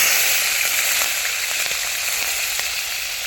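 Cumin seeds and green chillies sizzle in hot oil for a village-style dal tadka, giving a steady bright crackle and hiss with small pops, close and constant throughout.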